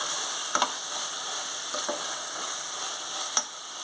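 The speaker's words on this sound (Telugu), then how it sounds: "మొత్తం కలిపేటట్టు కలుపుకుందాం." Mutton keema being stirred and mixed in a hot pan with coriander, cumin and mutton and biryani masalas, a steady loud sizzle broken by a few sharp scraping taps of the spoon, with no one talking.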